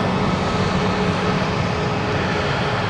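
A Ryanair aircraft taking off at Manchester Airport, heard as a loud, steady broadband engine roar that holds without a break throughout.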